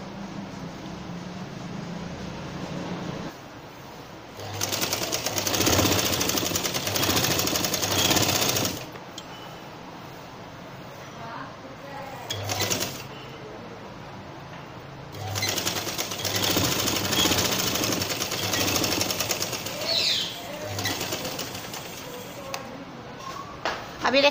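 An electric sewing machine stitches the shoulder seams of an umbrella frock in two long steady whirring runs, with quieter gaps between them filled by light handling noise and a soft voice.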